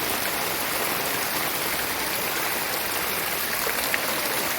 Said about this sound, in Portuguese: E a água tá descendo com força